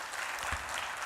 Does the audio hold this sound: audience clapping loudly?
yes